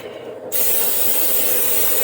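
After a brief pause, a steady pressurized hiss of aerosol cooking spray onto a baking pan starts and continues evenly, close and loud.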